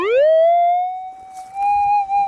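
While gold detecting in Victoria's Golden Triangle, a metal detector gives a sharp rising electronic tone on finding a target, then holds a steady whistle-like pitch with faint ground noise beneath, close and loud.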